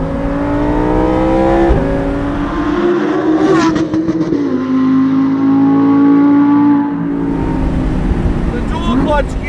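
A Lamborghini Performante Spyder with a dual clutch gearbox and a short exhaust revs hard, a loud close engine wail climbing through pulls, with a sharp blip and shift mid-run before the note drops and rises again.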